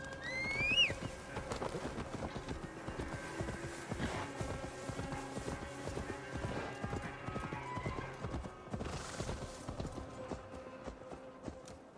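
Horse hooves clip-clop in Assassin's Creed Valhalla, a steady walking rhythm of clear, close hoofbeats over soft game ambience, with a brief whistle-like tone near the start.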